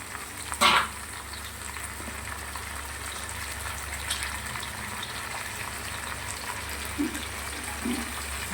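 Fish being added to a pan with lightly fried onion and ginger-garlic paste, giving a steady soft sizzle of frying throughout, with a brief clatter near the start and a couple of small knocks later, no talk heard.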